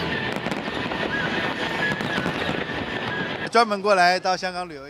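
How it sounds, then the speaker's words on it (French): Fireworks burst over a harbour in China, crackling and booming densely for several seconds amid wind, before a voice begins speaking near the end. "8 ensembles de feux d'artifice représentaient différents thèmes et ont embrasé le ciel au-dessus du port."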